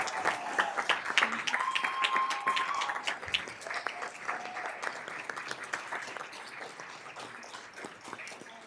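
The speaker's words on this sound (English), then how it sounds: "Let's give our 2019 Classified Champion Award winners a round of applause." An audience applauds award winners at a school district board meeting, with sharp, dense clapping that gradually thins and fades. A few voices talk over it and brief tonal sounds cut through near the start.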